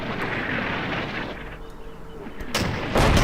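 Heavy artillery and gunfire boom through a WWII Market Garden battle in the Combat Mission video game. Dull distant blasts roll under a rumbling background, then sharper, louder bursts come near the end.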